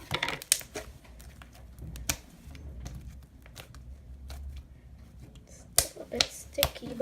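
Butter slime made from dollar store clay being squished by hand, giving sharp, crisp clicks and pops in scattered bursts, loudest near the start and end, with quieter soft squelching in between.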